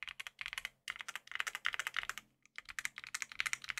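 Quiet, creamy keystrokes on a Yunzii YZ87 mechanical keyboard, a close, fast run of soft clicks in bursts separated by brief pauses, with no voices.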